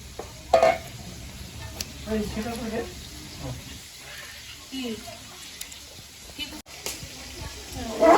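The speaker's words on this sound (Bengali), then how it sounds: "দই কাতলার জন্য এখানে মশলাটা কষানো হচ্ছে" Masala fries in a pan for doi katla fish curry, making a steady sizzle. Spatula clatters and stirring bumps break in irregularly, and people talk over the cooking.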